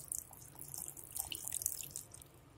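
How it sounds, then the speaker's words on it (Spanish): Water poured into a pot of vegetable cream soup being made in a kitchen, a steady splashing, trickling pour with bright hiss, close and fairly quiet, no talking. "yo le voy a incorporar ahora agua"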